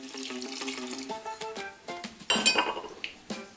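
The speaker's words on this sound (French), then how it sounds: "Je verse l'eau" Water poured into a saucepan of rhubarb, with light metallic clinks of pots and utensils at first and then a brief splashing rush, all close by.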